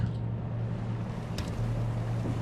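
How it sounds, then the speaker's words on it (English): Steady low water wash and hull rumble heard from the deck of a cargo ship in a ship simulator video game, a continuous even drone with a brief faint splash partway through, with no talking. "You can hear the water."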